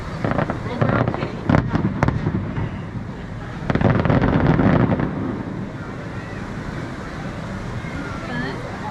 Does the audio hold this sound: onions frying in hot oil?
no